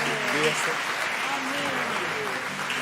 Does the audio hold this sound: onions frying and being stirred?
no